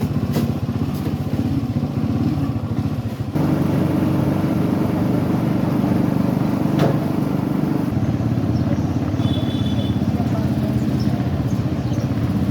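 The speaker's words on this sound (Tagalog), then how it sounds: "Kaya sumakay kami ng tricycle papuntang bayan." Tricycle motorcycle engine droning steadily and loud at close range throughout a ride to town, with a brief clatter near the start and a shift in tone partway through.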